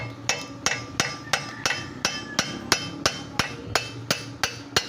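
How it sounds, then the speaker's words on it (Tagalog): Hammer blows on the axle of a 2012 Toyota Corolla Altis during undercarriage repair, a steady series of about thirteen sharp metallic strikes at an even rhythm, close and loud with no talk. "dahan-dahan lang sa pagpukpuk nitong axle"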